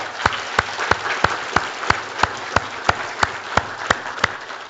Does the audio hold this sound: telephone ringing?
no